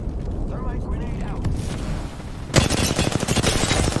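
Rapid automatic gunfire in Apex Legends breaks out loud and close halfway through and keeps going steadily, after a quieter stretch of distant battle noise.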